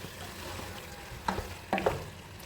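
Beef is stirred into a tomato biryani masala: a low frying sizzle, then two or three sharp scraping strokes of a spoon near the end, close and fairly loud.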